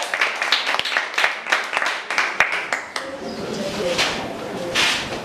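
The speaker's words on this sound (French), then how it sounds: "applaudissez pour elle" Audience applause at a youth and employment event in Congo, with sharp, uneven claps bursting in quick succession, loud and close, then thinning into a looser patter with a few voices calling out.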